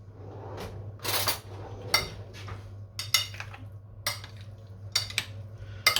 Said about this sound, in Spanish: Ahora removemos bien y ya está terminado